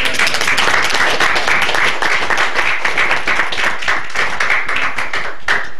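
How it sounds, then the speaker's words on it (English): An audience at a city commission meeting in Palatka applauds local firefighters, dense continuous clapping from many hands that holds steady throughout. "Let's give those guys a round of applause."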